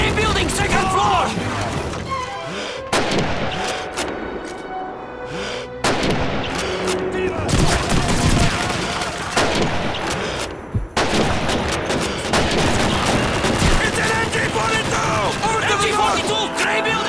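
Heavy MG42 machine gun fire and explosions fill a Call of Duty 2 battle, loud, dense bursts and blasts nearly continuous throughout, with shouted voices mixed into the chaos.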